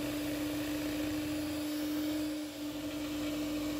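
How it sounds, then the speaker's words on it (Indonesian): Electric mixer running steadily at low speed, beating a cream cheese batter as egg yolks are added one at a time; a continuous motor whine with a strong steady hum, close and alone throughout. "Kuning telurnya kita tambahkan satu persatu sambil di mixer pakai kecepatan rendah."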